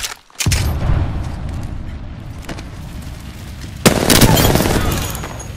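Gunfire and a grenade blast in the battle royale game Apex Legends: a sharp boom opens a dense, loud stretch of rumbling fire, with a second heavy burst late, all close and continuous.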